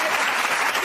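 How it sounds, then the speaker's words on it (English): A studio audience at a TV talk show claps in a brief, dense burst of applause, steady and fairly loud for under a second. "Give Will a round of applause."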